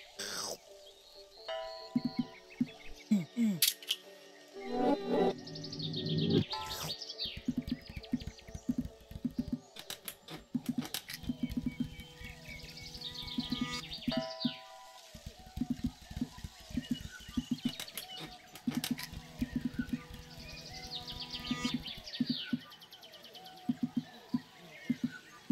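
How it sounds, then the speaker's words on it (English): Bird chirps and cooing calls in the video game Botanicula sound over a backdrop of musical tones and clicking percussion, coming in bursts across the clip with a voice briefly present. "That is a very hungry bird."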